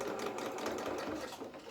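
Close sewing machine running a quarter-inch seam along a small trouser leg, a brief continuous whirring hum with fast, even needle rhythm and no pauses.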